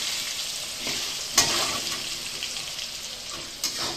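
Cabbage cooking in a pan, giving a steady broadband hiss and sizzle throughout with a couple of brief louder spits or stirs.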